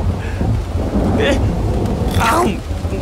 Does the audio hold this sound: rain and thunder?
yes